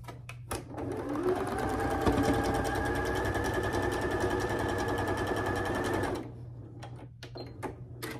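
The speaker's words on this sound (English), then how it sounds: "I'm going to sew this, and then I'm going to sew this." A sewing machine stitches a quilt block in one steady, continuous run of several seconds, loud and close, with brief handling clicks before and after.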